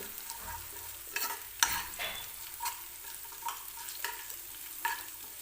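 Green chillies roast in hot oil with a steady sizzle, broken by a few sharp scrapes and clinks of stirring spaced through the stretch. No one speaks.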